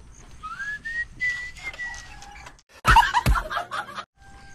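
A whistling tone from something just tightened, with a rising, wavering pitch that holds briefly, then a loud burst of clattering noise near the end.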